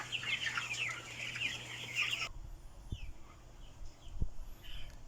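Broiler chickens on a farm clucking and cheeping, a busy flock close by at first, then quieter scattered calls with a couple of low thumps.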